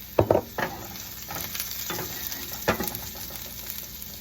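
Eggs frying in a pan with red pepper flakes for a Sicilian egg and peas dish, a steady soft sizzle with a few louder crackles and stirring scrapes near the start, no voices.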